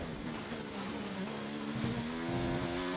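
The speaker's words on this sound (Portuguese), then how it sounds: "Mostrar o nosso motor aqui da Mercedes." The Mercedes engine of a Formula 1 car in F1 2019 qualifying in Canada whines steadily at high revs, its pitch holding and then climbing slightly, close and continuous throughout.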